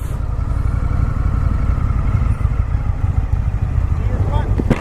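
A 2019 Triumph FTR 1200 motorcycle engine downshifting while riding, heard as a loud, steady low rumble with wind noise that continues without a break.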